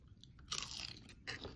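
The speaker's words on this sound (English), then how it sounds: "They're really crispy and thin and crunchy." Close, crisp crunching as thin, crispy crackers spread with ghee are bitten, two loud crackly bites in quick succession.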